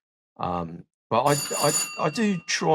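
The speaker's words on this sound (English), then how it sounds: "There you go. That's the doorbell. There goes the doorbell." A doorbell rings with a sustained, bright electronic tone that runs for over a second, partly overlapping someone talking nearby.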